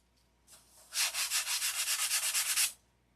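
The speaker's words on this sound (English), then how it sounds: "Started sanding before I eat." Sandpaper is rubbed back and forth by hand in a quick, even rhythm of about a dozen close, raspy strokes, starting after a brief lighter scrape and stopping abruptly.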